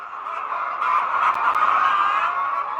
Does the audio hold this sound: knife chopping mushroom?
no